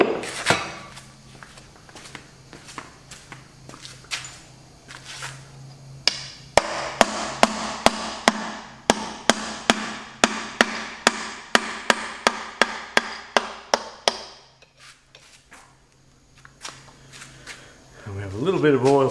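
Steady run of sharp metallic hammer blows on a punch while a gearbox is dismantled, roughly fifteen evenly spaced strikes, close and loud, then a pause with faint shuffling and a louder clunk at the end.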